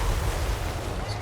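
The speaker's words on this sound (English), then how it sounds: "artillery keeps shooting" Artillery fire in the fantasy strategy game Total War: Warhammer 3, with steady low rumbling booms and battle noise rolling under a dense, continuous din.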